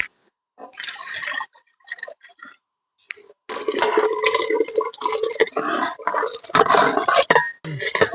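Rice being washed with hot water in a home kitchen, with splashing, swishing and dripping water in irregular bursts, fairly close, separated by short quiet pauses.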